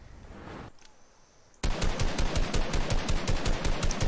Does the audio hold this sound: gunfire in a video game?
yes